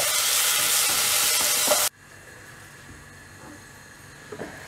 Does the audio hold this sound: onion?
yes